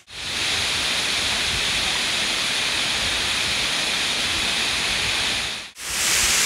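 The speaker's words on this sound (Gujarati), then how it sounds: "આ છે મુખ્ય ધોધ ઉપર જે દૂરથી રસ્તા પરથી પણ દેખાતો હતો" The main waterfall near Vansda in the Dang monsoon hills of south Gujarat roars as a loud, continuous wash of falling water, unbroken until a brief dropout near the end before the roar resumes.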